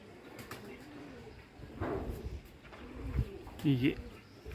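Low, soft cooing of pigeons sounds a few times against outdoor background noise, with a louder burst of coos near the end.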